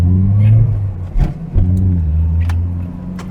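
A 1980s Nissan Skyline DR30 RS-X turbocharged four-cylinder car accelerates loudly up close, its engine note rising, dipping briefly mid-pull and climbing again.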